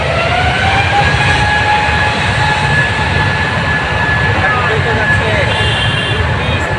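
A plane prepares to take off at an airport, its steady loud jet engine roar filling the air without pause, rising whine tones audible above the low rumble, with some background voices.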